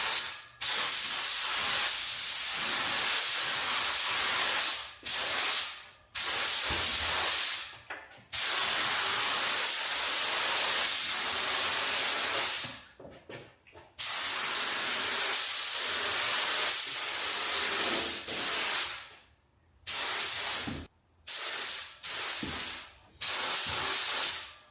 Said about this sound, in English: That is the primer mixed up and into the gun, so let's get it onto the splitter.